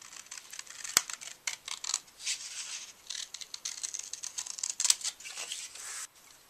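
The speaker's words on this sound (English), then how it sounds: "Start by cutting a large shamrock with a stem out of a piece of green cardstock." Scissors snip through green cardstock while a large shamrock shape is cut out, giving quick, close, crisp clipping strokes in irregular bursts with brief pauses and no talking.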